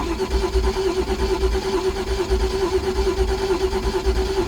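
A MerCruiser inboard engine on a boat runs steadily during winterizing, a loud continuous mid-pitched drone with a constant tonal hum and rough low-end pulsing, close and alone.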